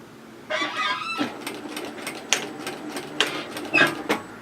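A sewing machine runs in short bursts while stitching the seam of a flounce beach wrap coverup, its needle chattering in rapid close patter broken by brief stops.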